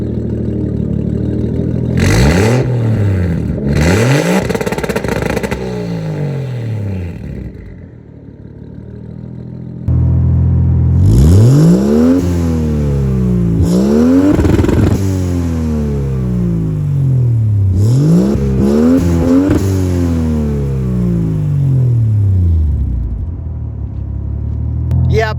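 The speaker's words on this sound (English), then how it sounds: "So here's how the exhaust sounded before the muffler and the new exhaust system" A Mercedes W203 with a turbocharged M104 engine and no muffler revs repeatedly, loud and close, its exhaust rising and falling in several rumbling bursts over a steady idle.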